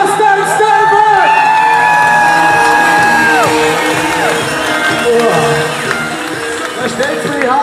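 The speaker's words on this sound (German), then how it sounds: "Jetzt fetten Applaus bitte, Jostein Steinberg!" A crowd at the M.O.D Linz 2015 event roars for a performer, with loud sustained cheering, whoops and shouts, plus a few long tonal calls, filling the space throughout.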